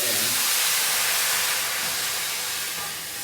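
A loud, close hiss of steam erupts as boiling water hits a hot tray on the bottom of an oven before baking sourdough focaccia, a sustained, even rush that fades slightly at the end.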